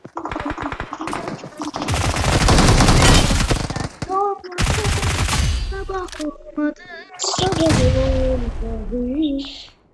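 Rapid video-game gunfire crackles in dense bursts through a shooting game, loud and near, with short pauses between volleys while a voice talks over parts of it.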